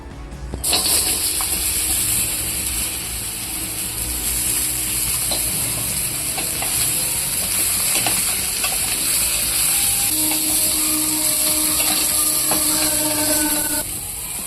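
Mustard seeds sizzling and crackling in a spoonful of hot oil for a Marathi ghosavla vegetable dish, a steady loud frying hiss throughout with scattered small pops and clinks, no talking.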